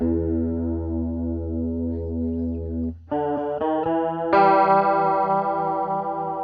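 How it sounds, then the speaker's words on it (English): Electric guitar chords ring out with a gentle chorus shimmer, a sustained chord followed by a few quick strums, warm and slightly doubled in tone. "That's more of a subtle chorus."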